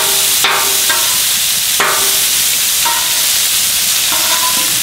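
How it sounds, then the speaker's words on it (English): Beef fillet trimmings sear in hot beef tallow with a loud, continuous sizzle, broken by a few sharp utensil clanks as the pieces are moved and flipped. "All we really gotta do is get a good blade and sear on each side of these."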